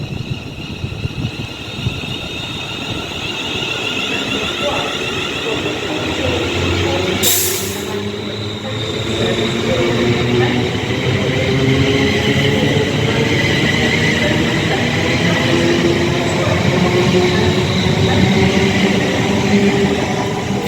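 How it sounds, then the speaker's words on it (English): A London Northwestern Railway passenger train pulls out of Rugby station bound for Crewe, its engine and wheel noise building as a steady, loud rumble with a brief hiss partway through. "About to depart now is the late running 1442 London North Western Railway service to Crewe"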